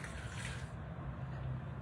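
Bean cooking water poured from a pan into a pot of vegan tortilla soup, a steady close splashing stream running for about two seconds with no voices.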